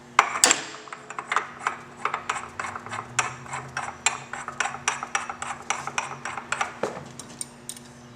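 A ratchet socket tightens a stuck nut on a motorbike exhaust while fitting a Freedom exhaust to a cross bike, clicking in a steady run of sharp, close metallic ratchet strokes, with no talk.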